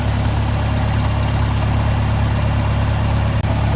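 A tractor engine idles on a cattle pasture during hay feeding, a loud, close, steady low-pitched rumble with constant vibration and no change in rhythm, heard alone.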